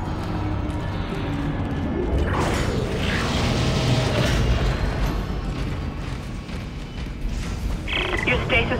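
Grinding, clanking mechanical noise of a malfunctioning door mechanism in the sci-fi horror game Dead Space, loud and continuous with low rumbling and intermittent ratcheting, a sharper metallic burst near the end.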